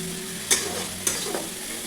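Kashmiri red chili and garam masala fry in hot oil for a Bengali rui fish curry with mustard and poppy seed paste; a steady close sizzle broken by a few scraping stirs, with no speech.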